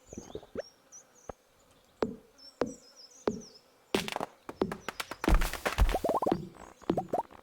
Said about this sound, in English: Like that bee sound.